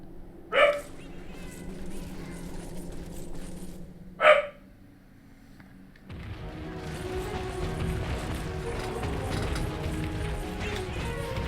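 A pet dog gives two sharp, loud barks a few seconds apart over quiet room tone, followed by a louder stretch of continuous background noise.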